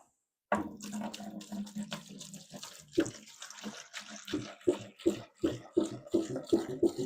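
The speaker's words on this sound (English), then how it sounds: "So I have my lacquer thinner. I'm going to pour it in a bucket" Lacquer thinner is poured into a bucket for dunking a clock movement, a splashy liquid pour followed by a run of rhythmic sloshing and knocking sounds, close and moderately loud, with no speech.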